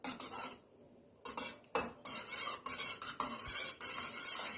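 An egg is beaten in a bowl for a homemade sweet, with a utensil clinking and scraping in quick rhythmic bursts and a brief pause early on, close and fairly quiet.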